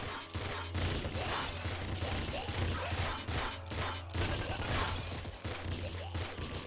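A bolt-firing gun in the game Nuclear Throne shoots rapidly, each bolt adding to a dense, continuous stream of sharp impacts and mechanical clatter that stays busy throughout.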